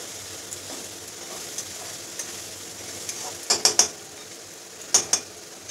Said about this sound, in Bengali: এই রসুন আদা আর গোলকিটা পেঁয়াজের সাথে আমি ভালো করে ভেজে নেব।